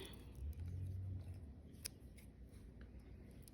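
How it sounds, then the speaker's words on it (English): Scissors snip through a length of yellow yarn, a quiet short cut set against a low background hum, close and faint. "I'm gonna cut a length of my yellow for sewing."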